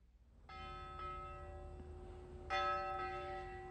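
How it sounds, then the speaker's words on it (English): A church bell rings in a Shaker community, with a loud clear strike followed by a second strike two seconds later, each leaving a long ringing hum that fades slowly. "They told time by the ringing of the bell."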